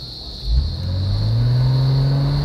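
A Porsche Boxster S engine pulls away with a low rumble that swells and rises steadily in pitch, heard close from inside the car over a constant high whine.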